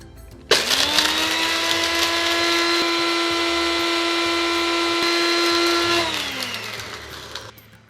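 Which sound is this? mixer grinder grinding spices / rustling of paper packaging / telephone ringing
mixer grinder grinding spices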